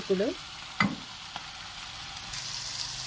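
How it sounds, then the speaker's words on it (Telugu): Flat beans (chikkudukaya) fry in a pan for a masala gravy with browned onions, a faint steady sizzle with a couple of brief stirring scrapes near the start and a quiet remark over it. "చిక్కుడుకాయ అయితే మనకి ఇలా వేగుతుందండి"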